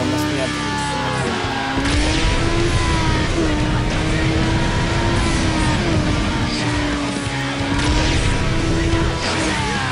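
Race cars roaring through a street race in Need for Speed: Underground, engines droning and shifting pitch steadily for the whole stretch, loud and close, with a brief impact near the start and a voice faintly underneath.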